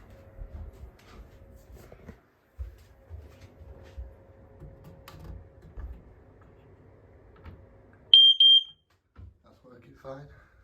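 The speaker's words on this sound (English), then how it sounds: "let's just go and test this smoke alarm in here." A smoke alarm under test gives a loud, piercing high-pitched beep lasting about half a second, then two shorter chirps, after quiet room sounds and a person talking.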